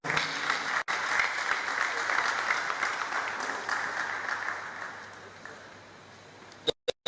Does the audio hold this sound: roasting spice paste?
no